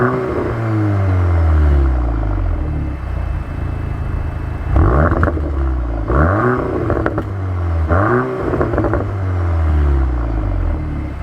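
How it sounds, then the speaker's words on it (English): Exhaust of a 2025 Audi S3 revving: a loud engine drone that rises and falls through repeated throttle blips, with crisp rasping peaks and no talking. "the exhaust sounds pretty good"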